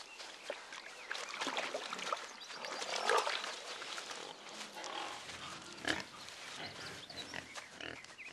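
A wild boar in a flooded Danube forest grunts and snuffles nearby, a steady run of rough, low oinks and rustling that rises and falls.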